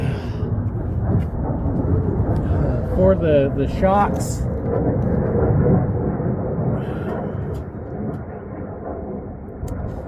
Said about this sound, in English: Waiting for the planes to go by,